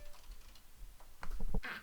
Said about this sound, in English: Typing on a computer.